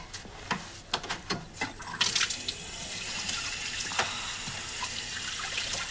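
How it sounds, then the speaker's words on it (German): Cold tap water runs steadily to rinse a stain out of fabric, preceded by a few separate splashes and dabs, then a continuous close hiss of flowing water into a sink. "Ich glaube, das ist gescheiter, wenn man das mit einem kalten Wasser ausspült."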